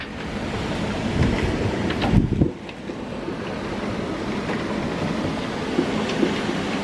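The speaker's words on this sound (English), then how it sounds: "this is the first real rain we've had in the entire storm" Heavy rain and gusting wind of Hurricane Grace sweep over a sailboat at a marina in Isla Mujeres, a dense continuous roar with a few stronger gusts.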